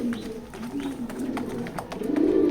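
A racing pigeon coos in its loft, several soft low throaty calls close by, with a louder, fuller coo at the end.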